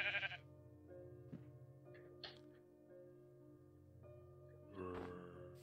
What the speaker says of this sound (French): Mais il y a du mouton.